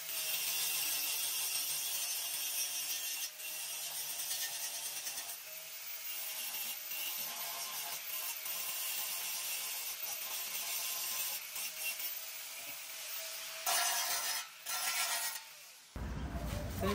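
A sander grinds steadily across freshly full-welded metal in a home workshop. The loud, continuous abrasive rasp runs almost unbroken for the whole stretch and cuts off abruptly near the end.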